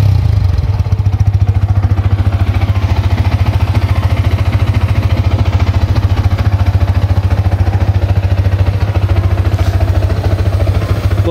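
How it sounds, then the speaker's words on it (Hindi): A Yamaha motorcycle engine running at idle after an electric self-start, a loud, steady, close-up rhythmic putter with mechanical clatter throughout. "अब ये तो बिल्कुल ही एकदम एक ही सेल्फ में चालू हो गया। यही तो ये है यामाहा का पावर"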